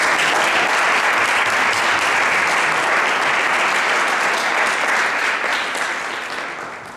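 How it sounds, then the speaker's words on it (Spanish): A lecture audience gives sustained, warm applause to welcome a speaker at a book presentation in Monterrey, loud and dense throughout before gradually tapering off at the end. "Les pido un caluroso aplauso para darle la bienvenida."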